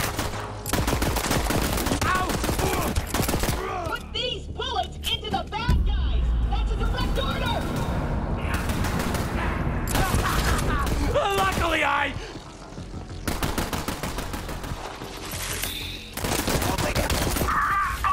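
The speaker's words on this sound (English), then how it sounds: "Put these bullets into the bad guys!" Dense automatic gunfire rattles through a Borderlands 3 firefight on a PS4 Pro, loud and close in sustained volleys, with shouting voices and game effects layered over the shooting.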